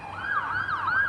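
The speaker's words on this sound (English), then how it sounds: "it's an ambulance." An ambulance siren wails in repeated rising and falling sweeps, moderately loud and alone, as the vehicle passes by.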